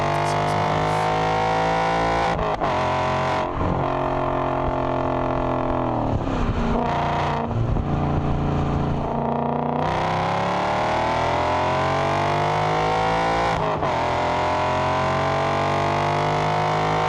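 Audi RS4 B7 with a 4.2 V8, manual gearbox and aftermarket exhaust, revving hard on track with rising pulls and sharp shifts, loud and close throughout with no talk.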